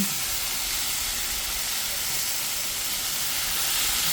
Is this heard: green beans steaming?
yes